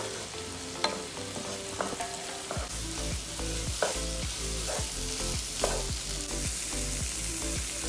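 Eggs are scrambled in a pan for chicken fried rice, a loud close sizzle broken by repeated scraping strokes of a spatula against the pan at a steady rhythm, with no voices.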